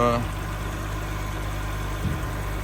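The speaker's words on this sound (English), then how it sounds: "The engine does tick a little bit on cold start." Steady idling BMW 135i engine on a cold start, with a faint, even lifter tick running through it, close by and fairly constant throughout.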